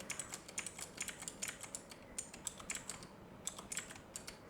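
Fast bursts of typing on a computer keyboard during copy-and-paste work, with crisp, close key clicks in uneven clusters and a short pause midway. No one speaks.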